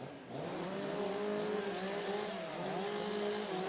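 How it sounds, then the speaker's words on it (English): Racing chainsaws warm up at a timbersports world championship, their high-revving engines whining and wavering together in a steady, loud drone with repeated rises and dips in pitch. "Warm up your saws."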